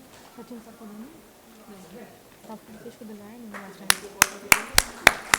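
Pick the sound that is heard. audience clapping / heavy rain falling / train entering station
audience clapping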